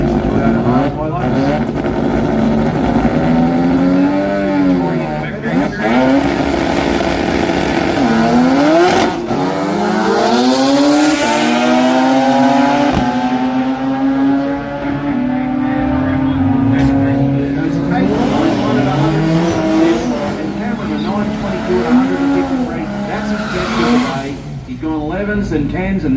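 A Mazda RX3 sedan and a Toyota Hilux drag race, their engines screaming loudly through rising and falling gear changes at an outdoor drag strip, with an announcer talking over the roar throughout.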